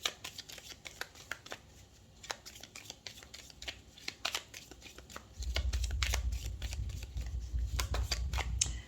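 A Lenormand card deck is shuffled by hand for a reading, giving quick, crisp riffling clicks in irregular bursts, close up, with a low rumble joining near the end; no one speaks.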